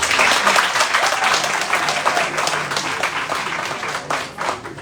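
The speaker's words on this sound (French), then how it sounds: "Je voudrais que vous l'acclamiez." An audience at a ceremonial conference in Dimbokro breaks into sustained applause, a dense wash of clapping that stays loud throughout and tapers slightly toward the end.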